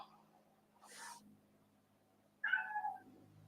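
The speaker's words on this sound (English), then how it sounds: "My cat's meowing at the door." A house cat meows at the door: a brief faint sound, then a clear, close meow after a pause.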